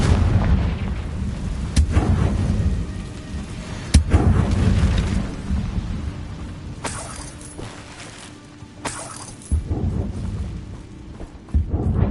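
Confringo fire spells burst in Hogwarts Legacy combat, a series of loud booming blasts at irregular intervals with sharp cracks among them, rumbling over busy battle noise with no voices.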